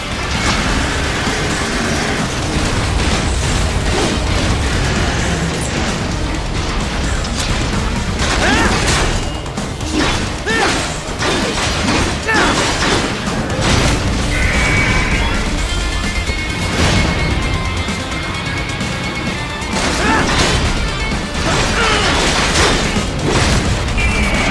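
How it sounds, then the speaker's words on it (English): Missile blast in Metal Gear Rising: Revengeance, heard as a deep, loud boom within continuous game combat noise of crashes, bursts and mechanical clatter that runs without a break. "Catch that missile before it blows!"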